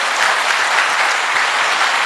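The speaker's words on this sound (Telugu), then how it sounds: "సార్కి ఒకసారి క్లాప్స్ ఇవ్వండి." Dense, continuous applause from an audience at a Vestige motivational training meeting, many hands clapping loudly and evenly for the full stretch.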